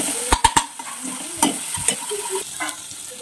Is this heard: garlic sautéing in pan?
yes